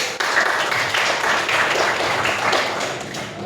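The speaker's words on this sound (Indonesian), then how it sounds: "Beri tepuk tangan." Students clapping in a high school classroom during an economics lesson, a short, close burst of busy hand claps that holds steady and then eases off slightly.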